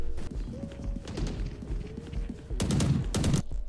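Video game deathmatch gunfire: a tight, loud cluster of several sharp shots near the end, after a quieter stretch of softer game sounds and faint tones.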